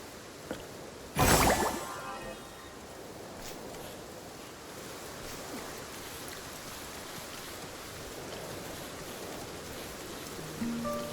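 Steady rain falls in the Infinity Nikki video game, a soft continuous hiss that holds evenly throughout, broken near the start by one brief louder burst of sound.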